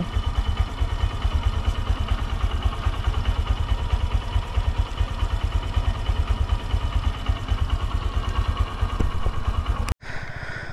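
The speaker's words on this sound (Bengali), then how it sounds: "তো হন্ডার খুবই স্মুথ ইঞ্জিন, দেখতেই পাচ্ছ।" A Honda Shine SP 125 motorcycle, a 2025 model, idles with a steady, close, even engine beat throughout, broken by a brief dropout near the end before the idle resumes.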